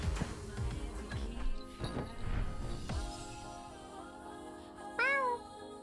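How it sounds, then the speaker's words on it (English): A cat meows in the video game Boyfriend Dungeon, one short rising-and-falling meow near the end, heard after a stretch of clattering, busy game sounds and music. "And this is a cat."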